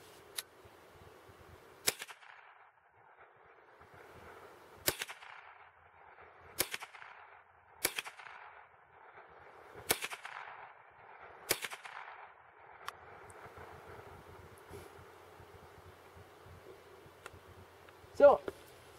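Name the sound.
gunshots from a Remington Nylon 66 rifle at cans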